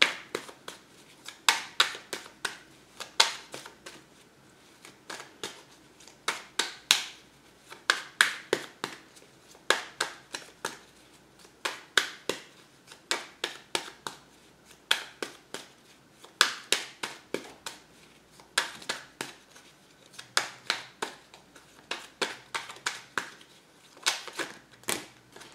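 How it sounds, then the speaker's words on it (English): Tarot cards are shuffled close up in repeated bursts of crisp riffling and snapping, each flurry separated by short pauses, continuing steadily without any voice. "If you don't like the shuffling, please scroll ahead."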